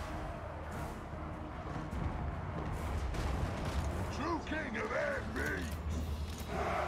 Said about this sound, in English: As our bolt thrower will be responsible for continuously shooting them to